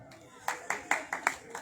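A small poetry-recital audience at the Kans fair in Mathura claps in sparse, uneven bursts, about six distinct sharp claps over a quiet background.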